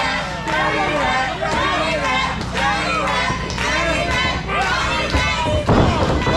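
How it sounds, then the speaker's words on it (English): Wrestling crowd at a live indie show chanting steadily, a loud, continuous wash of voices with rhythmic swells and occasional thuds, while an announcer talks over it. "And the crowd now chanting dirty rat."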